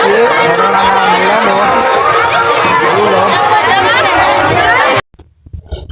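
Loud, dense crowd chatter fills the Khodiyar Mataji fair at Varona as many voices blend into a continuous roar, then it cuts off abruptly to near quiet with a few faint sounds.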